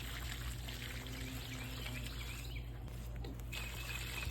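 Water poured over a newly planted bare root fruit tree in a garden, heard as a steady, continuous rushing stream close by, with faint bird calls in the background.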